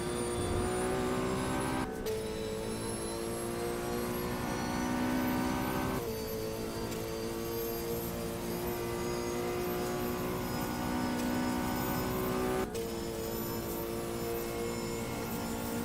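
Race car engine at the Daytona 6 Hours, a sustained loud roar with shifting harmonic pitch as the car drives through, cutting off sharply at intervals like gear changes, heard without talk.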